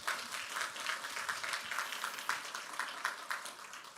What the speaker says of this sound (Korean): 우리의 모든 찬양과 예배를 기뻐 받으신 하나님께 우리 정말 마음을 다해 한번 뜨거운 박수를